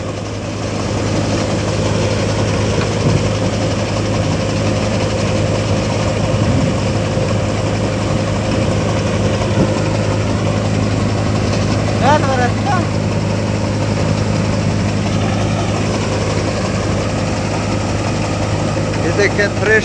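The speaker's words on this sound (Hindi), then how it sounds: "ये देखें थ्रेशर जो है ट्रैक्टर के साथ बाजरा का मौसम है और थ्रेशर जो है वो बाजरा निकाल रहा है" A tractor-driven thresher threshing pearl millet runs with a steady, continuous engine drone and low mechanical hum, loud and close. The sound holds without a break and nothing else rises above it.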